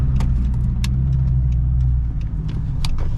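A Dodge Charger engine rumbles loud and close, a deep steady idle with a few small sharp ticks and pops scattered over it; no clear backfire stands out.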